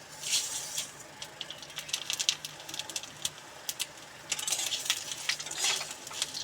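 Semai vermicelli with bay leaf being lightly fried and stirred in a pan for simui payesh, giving a quiet, close sizzle with repeated scraping and clinking strokes of the spoon against the pan.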